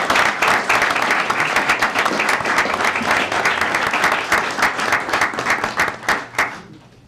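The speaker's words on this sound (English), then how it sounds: "let's give everyone on our Multicultural Affairs Committee a great round of applause" An audience at a city mayor and council meeting applauds a multicultural affairs committee with loud, dense, sustained clapping that continues for about six seconds before thinning out and tapering off.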